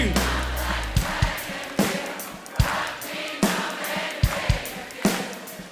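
A festival crowd at Belladrum claps in a steady, even rhythm along to a live performance, with loud crowd noise and voices filling the gaps between the sharp claps.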